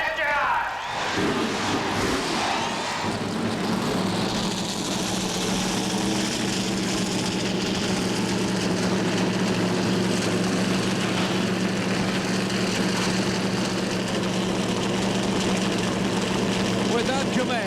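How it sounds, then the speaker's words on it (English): A field of 42 Busch Grand National stock cars fire up at Bristol Motor Speedway's 1997 Food City 250, their engines swelling into a dense, continuous roar that fills the air, with an announcer's voice on top. "we begin the rumble and the roar as 42 of the world's best Busch Grand National drivers prepare to do battle"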